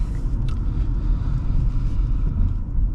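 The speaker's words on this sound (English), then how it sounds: "So setting off here in the Altima" A 2016 Nissan Altima 3.5 SL pulling away, its engine a steady low rumble with road noise heard from inside the cabin, continuous and fairly loud with no talk.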